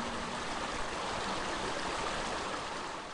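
Water of the Mangori stream, a tributary of the Manawatu in New Zealand, rushes steadily over its bed, a constant broadband wash from start to finish with no voices.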